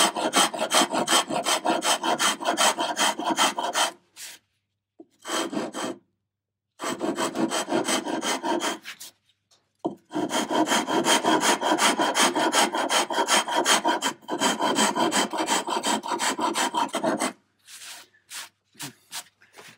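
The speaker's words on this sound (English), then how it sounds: "Beauty of this rasp is this is a handmade rasp rather than a machine made rasp, so it results in a slightly uneven pitch of the teeth" Handmade rasp shaping the edge of a wooden guitar body, with long runs of steady coarse rubbing strokes broken by short pauses and a few quick final passes, close and loud with no voices.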